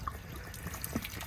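Water splashes and trickles out of an RV water heater drain as it empties during annual maintenance, a short close burst of running water and drips with no talk.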